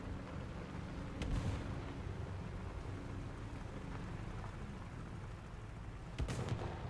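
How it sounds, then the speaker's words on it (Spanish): Gunfire in the tank battle game War Thunder, two distant, muffled gunshots roughly five seconds apart, heard over a steady low engine rumble and background noise, with no talk. "oigo un disparo por aquí"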